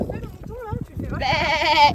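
Ewes bleat loudly and close by in a field, one long wavering bleat rising over the end of a stretch of talking.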